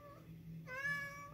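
A house cat gives a single drawn-out meow close by, rising in the second half after a fainter opening whine, amid a quiet room with a faint hum.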